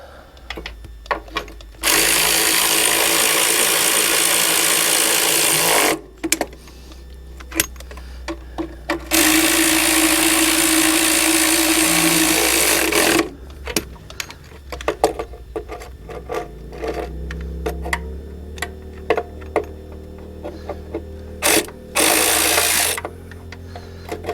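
A Harbor Freight ratchet snugs down wheel bearing bolts on a 1976 Mustang skid steer, running in two long, loud, steady whirring bursts, then shorter bursts among quieter clanks and handling noises.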